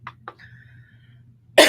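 Two quick coughs ring out close up, followed by a short rasp and quiet room hum, and then a harsh, loud cough bursts in at the end, part of a lingering coughing fit.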